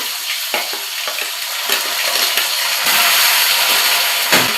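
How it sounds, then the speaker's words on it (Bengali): Potatoes sizzle in hot oil in a small pan in a miniature kitchen, a steady dense crackle with brief scraping stirs throughout, swelling slightly louder toward the end and heard alone without voices. "আস্তে আস্তে আলুগুলো দিয়ে দিলাম।"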